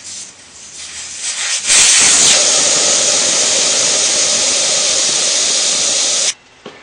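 Air rushes out of a BMW F650GS motorcycle tyre valve once the valve core is pulled, a loud, steady close-up hiss lasting about four and a half seconds before it abruptly cuts off.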